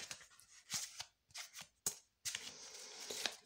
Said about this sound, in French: on va prendre 3 cartes, hop, et une dernière carte